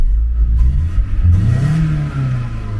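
A warmed-up car engine revs up and settles into a low, steady rumble, close by and loud, with no voices.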